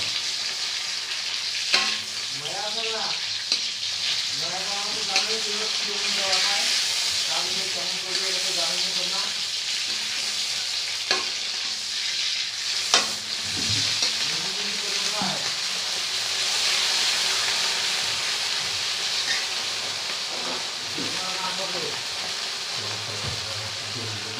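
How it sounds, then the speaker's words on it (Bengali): Tomatoes frying in a pan after onions, a steady broadband sizzle with stirring clatter, while people talk intermittently over the cooking. "টমেটোটা ভাজিয়ে করে নাও, ভালো করে নাও"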